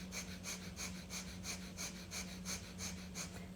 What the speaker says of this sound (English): Keep pumping the breath.